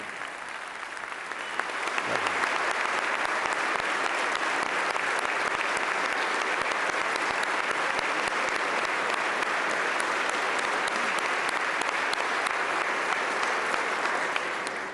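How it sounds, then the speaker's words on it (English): An audience at a governor's budget address claps for the First Lady, sustained loud applause swelling in after a quiet start and holding evenly to the end. "Let the record reflect, everybody seems to clap for the First Lady."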